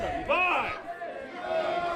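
Crowd at an independent wrestling show in an Elks Lodge hall in Rice Lake, Wisconsin, cheering and shouting at moderate distance, with a louder swell of voices early on, then a steady murmuring roar.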